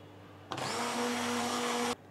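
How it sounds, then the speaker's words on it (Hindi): A hand blender whirs in crepe batter, one sustained high buzzing run of about a second and a half that starts and stops abruptly, loud and close with no talk. "हम हैंड ब्लेंडर से अच्छी तरह से इसे बीट करेंगे ताकि लम्प्स ख़त्म हो जाए"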